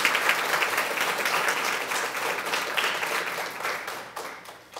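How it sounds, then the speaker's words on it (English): An audience at an elementary school national award ceremony gives a warm, dense round of applause. The many hands clap steadily in a sizable room, then taper toward the end. "Please give these people a nice round of applause."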